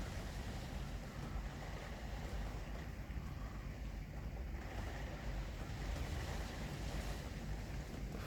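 Strong wind blows outside, a steady broadband rushing roar with gusty buffeting, heard indoors at moderate level with no talk over it.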